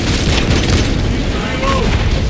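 A frag grenade blasts in Warhammer 40,000: Space Marine 2, a loud continuous booming rumble filling the whole moment, with battle noise and a brief chirping sound layered over it.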